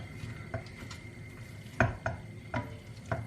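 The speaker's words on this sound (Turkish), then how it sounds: "Şimdi kıymamı yavaş yavaş karıştırarak kavuracağım" Minced meat fried in about two tablespoons of oil in a pan for spinach with mince, with a steady low sizzle under several sharp scrapes and clinks of a utensil stirring, close and alone.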